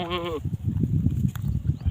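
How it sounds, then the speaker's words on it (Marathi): Goats bleat near a farm, one loud wavering bleat at the start followed by shuffling animal noise and faint background sounds, without talk. "हे बघा दोन शेळ्या यायलेत"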